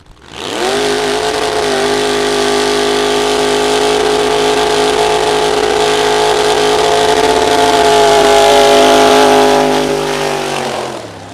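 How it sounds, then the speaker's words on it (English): The engine of the Harry Hauler Willys pickup truck at a vintage drag race holds a loud, steady droning roar for about ten seconds, swelling slightly near the end before cutting off, with no talk over it. "Paul Zilsdorf in the Harry Hauler Willys pickup truck."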